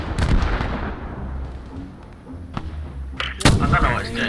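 Mortar rounds land during a paratrooper drop in a shooter video game, heavy booming impacts scattered through the clip with a big close blast near the end, while voices talk over the action.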